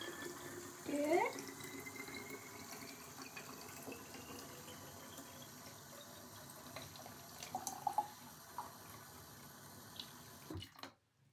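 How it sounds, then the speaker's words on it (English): Hot water runs from a sink tap into a container as a faint, steady flow with a few small squeaks and clinks, then cuts off abruptly near the end. "So we're gonna fill it up with hot water."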